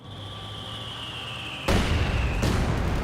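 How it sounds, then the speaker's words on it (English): A mortar shell lands in a Company of Heroes 2 battle with a sudden loud blast that cuts through a steady background hum, its rumble holding and then swelling again as a second impact follows about a second later. "Mortar hits up there."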